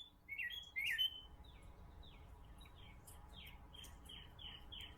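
A cardinal gives a few sharp whistled calls and then a steady run of quick descending chirps, fairly faint and at a moderate distance over soft background hiss.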